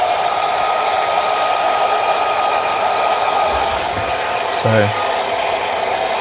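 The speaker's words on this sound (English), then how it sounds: "I'm just going to give this guy a quick blast with the hairdryer" A hairdryer blows steadily on a painted Warhammer miniature, its loud, even whoosh running the whole time and close to the microphone, with a brief spoken word partway through.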